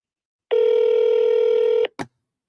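A cell phone gives one steady loud dialing tone lasting over a second, followed by a brief second burst, all in quiet surroundings with no talk.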